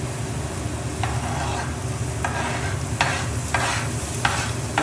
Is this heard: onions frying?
yes